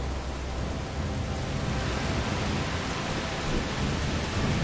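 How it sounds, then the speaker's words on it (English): Heavy rain pours in a thunderstorm in A Plague Tale: Requiem, a dense, steady wash of falling water with low rumbling thunder underneath, loud and continuous throughout. "The rain is getting worse. It's just a storm."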